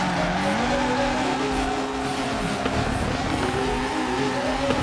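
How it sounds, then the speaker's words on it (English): A Mazda RX7 FD drifts in the FR Legends video game, with a loud, continuous tire squeal over a droning engine note that shifts pitch as the e-brake holds the slide. "we gotta use excess amount of e-brake as well"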